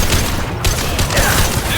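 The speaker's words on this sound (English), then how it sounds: "Firing a high-impact shot" High-impact gunshots in Mass Effect 2 Legendary Edition, a dense, loud burst of heavy weapon fire and impacts filling the short stretch with little pause.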